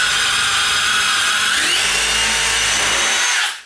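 A power drill bores into an IKEA kitchen cabinet during installation, its steady high whine running loud and close for about three and a half seconds before cutting off abruptly.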